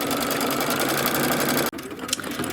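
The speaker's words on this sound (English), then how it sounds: "what we're stitching now is the light green" A domestic embroidery machine stitches a design in light green thread, giving a fast, even rhythmic clatter of needle strokes at close range that briefly cuts out and then resumes.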